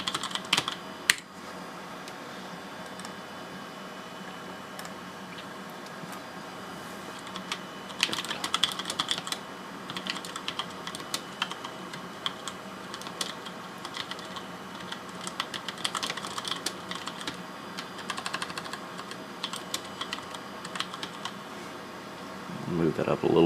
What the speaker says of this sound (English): So we'll just go ahead and type it in.